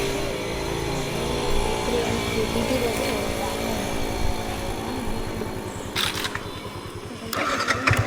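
A vehicle with a weak battery cranks and starts on an evening ride, its engine running with a rough, steady rumble close by, sharper bursts near the end, and voices talking over it.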